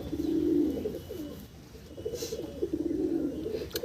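Pigeons at a Bengali loft coo in low, rolling murmurs, two warbling bursts close by over a quiet background.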